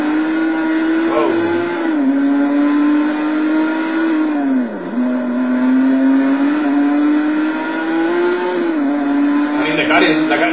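Esperante GTR-1 race car engine in the racing video game Total Immersion Racing holds a steady loud drone with brief dips at gear changes, running continuously with occasional voice above it.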